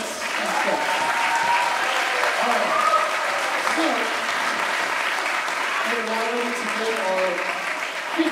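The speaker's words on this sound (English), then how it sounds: "Let's give our fourth grade another round of applause." A school audience at a spring orchestra concert gives fourth grade musicians a sustained round of applause, with steady crowd clapping throughout and some voices mixed in.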